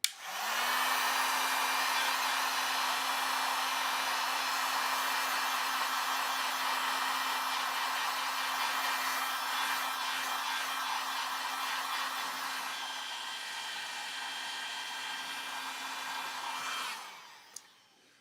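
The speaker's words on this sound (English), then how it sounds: "Ooh, I have the heat gun too, right?" A heat gun dries watercolour paint with a steady, loud blowing whir and a constant motor hum that runs unbroken for about seventeen seconds before switching off with a short click.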